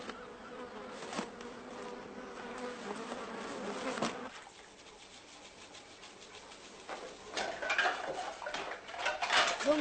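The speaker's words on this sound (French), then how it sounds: "Il y a beaucoup de mouches et ça sent très mauvais." Many flies buzz around cow horns rotting in the sun behind a slaughterhouse, a close, continuous insect drone that swells and fades, with a few faint ticks and scattered bird-like chirps in the background.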